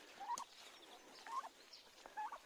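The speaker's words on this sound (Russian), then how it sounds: "Такой прикольный индюк." A turkey gobbles three times in quick, evenly spaced bursts, fairly faint against a quiet background.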